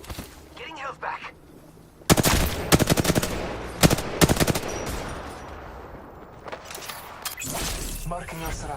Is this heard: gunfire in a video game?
yes